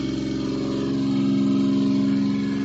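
A DC generator set, driven by a motor with its field rheostat being adjusted, runs steadily at about 1300 RPM, giving a loud, continuous mechanical hum and engine-like drone that holds level from start to finish.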